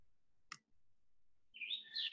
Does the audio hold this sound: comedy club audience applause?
no